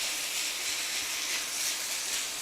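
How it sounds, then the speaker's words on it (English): Mince browning in a pan on a small hob gives off a steady, bright sizzle that holds even and continuous at close range, with no voices. "we're going to brown our mince off, keep it going, so it's starting to change"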